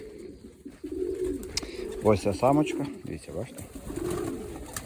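A female lilac pigeon coos in low, pulsing bursts close by while someone talks over part of it, the throaty rolls rising and fading around his voice.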